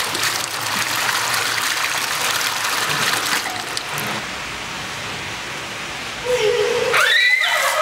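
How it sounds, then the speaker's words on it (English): Water from a bucket splashes and streams down at a Japanese public bath, a broad close hiss of pouring and running water that eases off, then returns with a brief splashy burst near the end. "you fill up your bucket with water and you can wash your body with soap"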